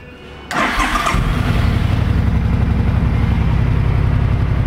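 A 2009 Suzuki C50 Boulevard motorcycle starts after near silence: a short cranking burst, then the engine catches and settles into a steady, loud, close idle with an even low throb that runs to the end.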